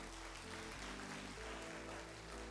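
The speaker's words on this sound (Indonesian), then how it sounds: "Tepuk tangan untuk Atomy." Audience applause at an Atomy business seminar in Indonesia: a dense, steady wash of clapping that fills the hall, with a low tonal hum running underneath throughout.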